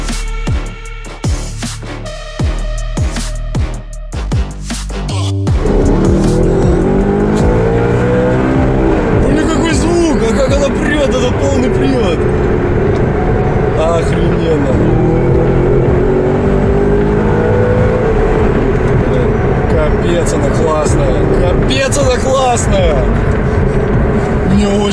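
A homemade Bugatti-styled car's engine revs and roars while driving, loud and close, with rising and falling pitch after a choppy start; people talk over the engine noise.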